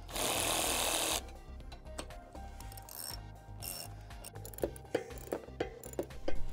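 Awning bracket bolts are tightened on a Prinsu roof rack during a 180 awning install, with a loud broadband burst at first, then scattered metallic clicks and ratcheting taps, close and irregular, with no talking.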